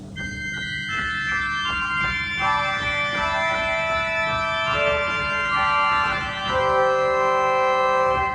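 A church organ's two-rank grave mixture stop sounding on its own, bright sustained chord tones shifting from one chord to the next in a resonant space, no voices.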